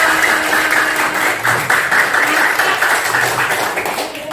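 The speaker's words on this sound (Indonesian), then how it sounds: "Kasih tepuk tangan untuk kalian semua." Steady applause from a group fills the room, dense and sustained clapping at a loud level throughout.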